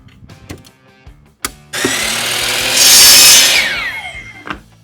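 A power saw cuts a wooden dowel to length in a woodworking shop, a loud close buzzing whine lasting a few seconds after some knocks and handling, then spinning down, with a few taps afterward.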